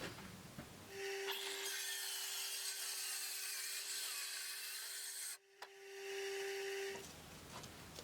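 A Bosch UniversalCirc 18V-53 cordless circular saw cuts through wood in one sustained, loud pass of about six seconds, its steady high whine starting and ending abruptly with a brief dip near the end.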